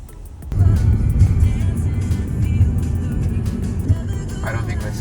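A car idles or rolls slowly nearby on a residential street in Massachusetts, a steady low engine rumble heard close throughout, with people talking over it.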